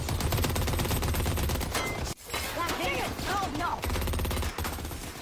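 Dense bursts of rapid gunfire rattle loudly through a film shootout scene, continuous automatic volleys broken by a brief pause, then resuming with heavy, crowded shots.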